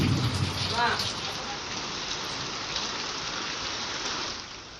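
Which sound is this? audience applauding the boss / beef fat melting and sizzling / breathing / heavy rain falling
heavy rain falling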